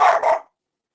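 A dog barks twice in quick succession indoors at home, loud and close, then silence.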